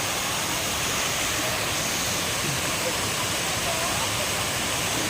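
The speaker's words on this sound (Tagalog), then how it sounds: "buong ilog dito" River flowing at a farm in Baco, Oriental Mindoro: a constant, loud broadband rush of water, steady and unbroken, heard close.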